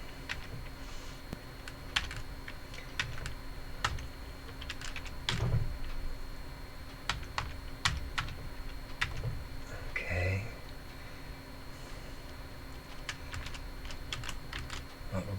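Someone typing a password on a computer keyboard: a quiet, irregular run of close key taps and clicks over a soft background hum, with a couple of slightly louder knocks.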